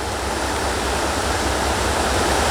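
A loud, close river pours along as a continuous wide roar of moving water, even and unbroken throughout.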